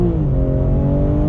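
A 2021 BMW M3 Competition accelerates hard in second gear on throttle, its engine a loud, steady close-up roar with rising tones and no talk.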